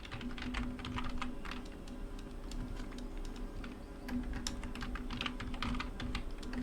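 Excel keyboard shortcuts typed on a computer keyboard: quiet, rapid, irregular key clicks in short bursts over a faint steady background hum, heard alone without speech.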